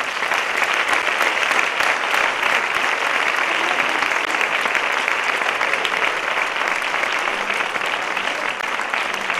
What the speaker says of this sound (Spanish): ¡Aplauso para todos ellos!